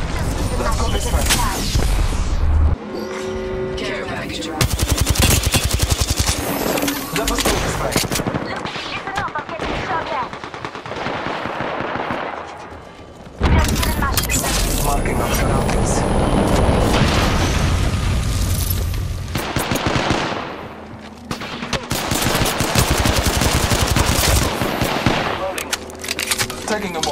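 Constant loud gunfire in the Apex Legends video game: rapid automatic bursts, single shots and booming impacts pile up almost without pause, with brief lulls between heavy exchanges.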